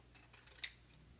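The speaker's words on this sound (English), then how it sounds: "I'm using these big honkin' scissors because a lot of this is wired ribbon" Large heavy-duty scissors snip through wired ribbon in one sharp, close cut, with faint handling rustle before it in a quiet room.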